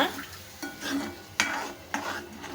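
A spoon scrapes and stirs mashed tomato into a tempering in a pan, with a few rhythmic strokes and light sizzling, close and clear.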